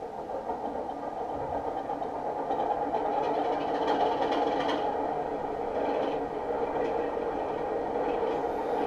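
A Heljan O gauge Class 33 model diesel locomotive runs its engine start sound, with the volume turned down. A steady rumbling mechanical drone swells slightly and holds at moderate loudness, with no speech.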